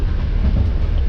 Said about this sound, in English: trains rock, they make a lot of noise